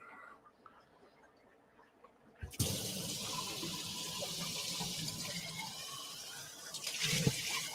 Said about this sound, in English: I'm guessing that you guys can hear my water running.